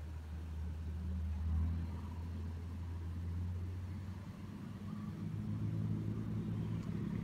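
An MPM intercity bus from Rantau pulls in at a roadside restaurant stop in Sumatra, its engine giving a steady low rumble throughout that swells slightly near the start and again toward the end, with no talk.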